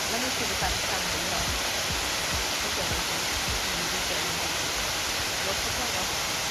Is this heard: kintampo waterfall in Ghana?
yes